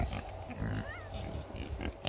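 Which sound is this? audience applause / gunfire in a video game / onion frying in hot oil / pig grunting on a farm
pig grunting on a farm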